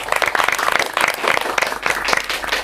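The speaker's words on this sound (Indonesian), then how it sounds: "Tepuk tangan dulu dong semuanya." Audience applauds a guest star, a lively burst of clapping with sharp, close hand strikes that pulse in loose bunches and stay loud throughout.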